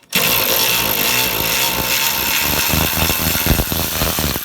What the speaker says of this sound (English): use a small ratchet.